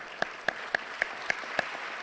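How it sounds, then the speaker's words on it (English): Slow, evenly spaced claps, about six in a row, ring out in a conference hall in thanks to the panelists at a session's close. They are fairly faint over a quiet room. "I would like to give a big hand of applause to our panelists"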